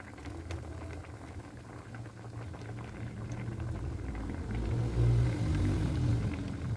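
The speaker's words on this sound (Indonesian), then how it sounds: "Kita tunggu sampai kuahnya ini menyusut." Sambalado sauce simmers and bubbles in a pan as it reduces, giving a steady close bubbling and sizzling that swells slightly toward the end. No one talks over it.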